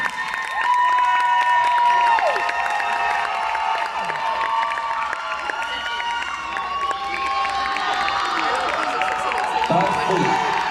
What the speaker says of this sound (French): Vous pouvez les applaudir, allez-y, pendant qu'ils montent à les applaudissements.